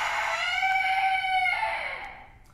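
A chicken gives one long, loud, strained squawking call that rises and then fades, close and alone with no talk.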